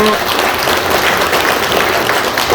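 Steady crowd applause at a guest introduction for a veterans' association event in Okcheon County, South Korea, dense and continuous clapping from many hands throughout, fairly loud with no talk over it.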